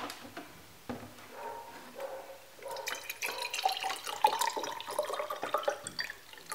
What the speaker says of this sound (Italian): La prima cosa che vado a fare è mettere in questo contenitore dell'acqua distillata.